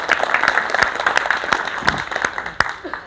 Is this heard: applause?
yes